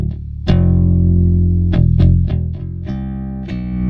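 A signal run through a PSP InfiniStrip preamp plugin stays clean, with sustained pitched notes and a series of sharp attacks over four seconds, no talking.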